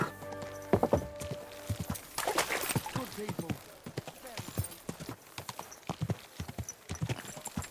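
Horse hooves in Kingdom Come: Deliverance clop in an uneven walking rhythm, close by, with a brief snort or whinny early on and scattered thuds between steps.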